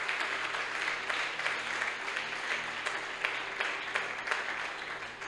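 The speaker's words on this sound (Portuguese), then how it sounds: "Você pode dar uma salva de palmas a Jesus pela palavra de Deus." Dense, steady applause from a church congregation during a sermon, filling the room continuously at an even level with no one speaking over it.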